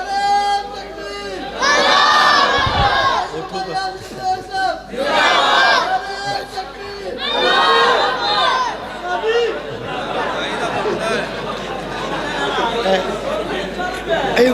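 A large gathering at a religious sermon erupts in loud, repeated rhythmic slogan shouts, waves of massed voices rising and falling with general chatter in between.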